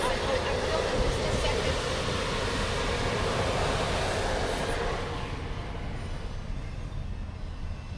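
A train rumbles past close by as heard from inside a car, a steady broad roar of rail noise that eases slightly toward the end, with a voice briefly audible.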